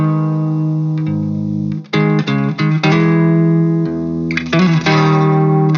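An electric guitar on the neck pickup plays a soft, chill melody in a lower octave, clear and close, with sustained notes and short gaps between phrases.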